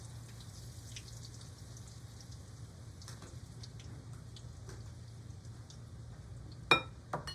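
Funnel cake batter frying in hot oil, a faint, steady crackle and patter of small bubbling pops over a low hum, with one louder sizzle burst near the end.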